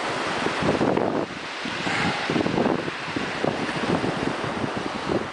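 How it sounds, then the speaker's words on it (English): Wind gusts buffet the microphone outdoors during sea fishing, a steady rushing roar with uneven surges, no voices present. "Not my wind either. The wind around us. The turbulence."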